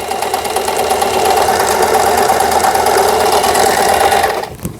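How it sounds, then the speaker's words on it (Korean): Lion Diana household sewing machine running a zigzag stitch, a loud steady close mechanical whirring chatter that holds for several seconds and then stops abruptly. "이제 지그잭 박음질을 해봐야 되죠."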